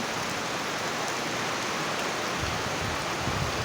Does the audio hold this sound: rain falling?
yes